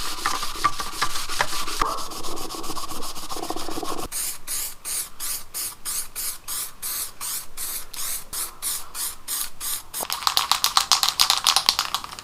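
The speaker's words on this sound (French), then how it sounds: "Mon instinct me dit de gratter l'alu avec cette éponge." A sponge scrubbing aluminium on a Golf 2 GTI 16 Turbo under restoration, close rasping strokes, continuous at first, then settling into a steady back-and-forth rhythm that quickens near the end.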